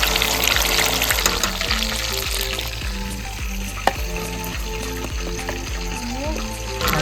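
Chicken lollipops deep frying in oil in small batches of five: a loud, steady, close sizzle with stirring and clinking throughout and one sharp tick midway.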